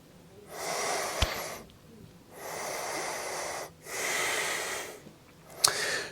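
Nasal breathing with the tongue pressed to the roof of the mouth behind the front teeth: three long, close, airy breaths through the nose separated by short pauses, with a couple of sharp sniff-like clicks.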